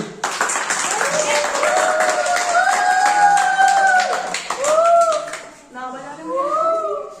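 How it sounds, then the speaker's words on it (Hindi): A small group claps for a quiz contestant in a classroom-style genius quiz game, quick scattered hand claps running throughout while several voices talk and call out over them. "उनके लिए एक बार ताली।"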